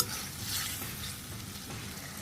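Omelette pieces stirred into an ash gourd curry fry in a pan with a steady close sizzle and soft stirring scrapes. No one speaks.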